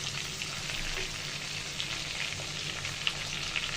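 Two chicken chops fry in oil over a medium flame, giving a steady, even sizzle and crackle with a few faint pops and no talking.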